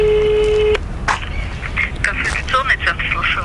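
A telephone keypad sends one steady dialing tone while a call is placed, followed by handling noise and a voice nearby.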